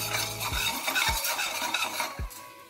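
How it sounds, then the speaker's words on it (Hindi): Steady sizzling of spices frying in a pan for dal fry, with a few soft stirring scrapes and low thumps cutting through the hiss. "अब इसको थोड़ा मैं फ्राई कर लूंगी थोड़ी देर के लिए।"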